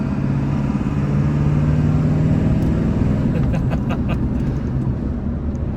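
A 1995 Ford F350 turbo diesel truck, fitted with a KC Turbo balanced assembly, accelerates with a loud steady engine drone, a rising whine and turbo hiss building midway, heard from inside the cab.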